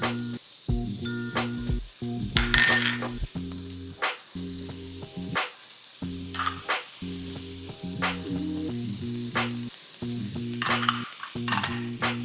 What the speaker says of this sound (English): we're gonna add our onions and green and red peppers to the pan